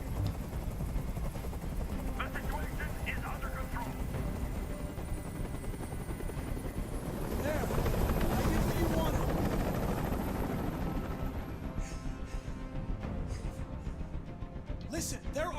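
Helicopter hovering overhead in the video game Detroit: Become Human, a steady loud rotor drone throughout that swells midway, with voices talking over it.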